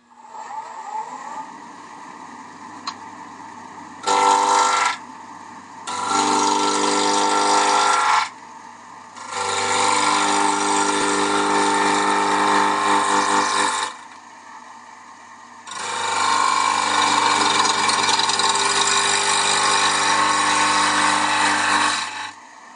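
A gouge roughs down a wooden bowl on a lathe, producing loud, sustained scraping and cutting bursts that come in several long runs with brief pauses between them.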